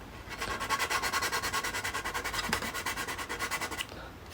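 Rhythmic back-and-forth sanding of a plastic model aircraft part, a Top Gun: Maverick jet kit being fitted to close gaps, steady close strokes for about four seconds before stopping.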